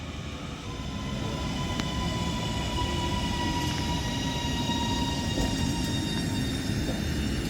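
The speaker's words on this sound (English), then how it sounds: "And as this Northern Class 331 arrives into Wigan North Western now" A Northern Class 331 electric train pulls into Wigan North Western station with a steady, loud rumble and hum that holds throughout, plus faint high whines and a few brief squeaks from the wheels. No one speaks.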